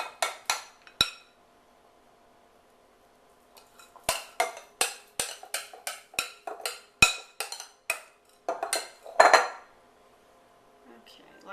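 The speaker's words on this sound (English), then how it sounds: "This is actually more a teaspoonful of filling that I'm putting in instead of a tablespoon." A spoon scrapes and taps against a metal pan and bowl while cream cheese filling goes into mini Danish pastries, a series of sharp clinks in clusters with short quiet gaps.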